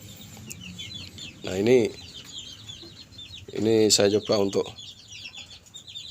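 Chickens clucking in a coop, heard in two short bursts of calls with other birds chirping faintly around them, while someone speaks briefly in between.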